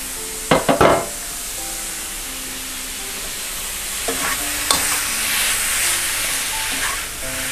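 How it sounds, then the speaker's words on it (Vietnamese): Meat goes into a hot pan with fragrant shallots: a few sharp clacks at first, then a rising, hissing stir-fry sizzle that carries on with occasional utensil knocks. "Giờ mình cho thịt vô xào nha."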